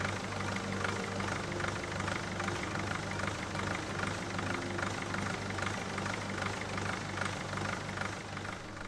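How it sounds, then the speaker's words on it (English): A Mercedes van's OM611 diesel engine idles steadily with a low, uneven rumble and slight knocking, running continuously close by with no other sounds. "The OM611 engine in this van is neither the least nor the most refined engine ever"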